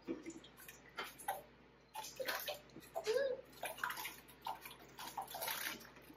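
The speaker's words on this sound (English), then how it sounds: "Now I'm gonna add my potatoes." Potatoes tumble into a pot of chicken broth, giving loud irregular splashes and sloshing water bursts over several seconds, close by and without talk.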